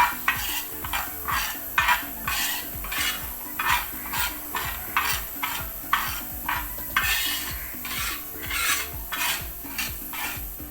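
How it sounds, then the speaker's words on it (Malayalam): A kilogram of wheat is dry-roasted in a pan while being stirred, making rhythmic gritty scraping strokes about twice a second with rattling grains and faint sizzle, close and clear, with no talk. "നമുക്ക് ഈ ഗോതമ്പ് ഒന്ന് വറുത്തെടുക്കാം"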